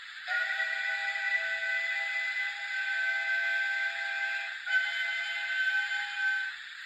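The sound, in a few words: steam whistle sound from Hornby Playtrains toy train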